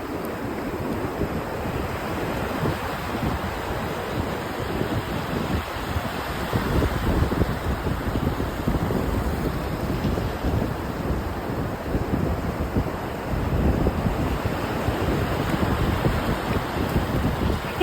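Sea waves wash steadily onto a beach at sunset, a continuous soft roar of surf with gentle rising and falling swells and light wind buffeting the microphone, with no voices.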